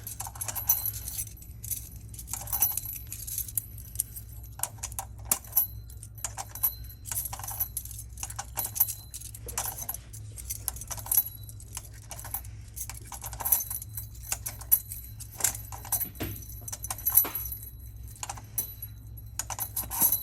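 Metal keys jangle and clink repeatedly in short irregular bursts while being unboxed and sorted for stocking, close and fairly quiet over a steady low hum.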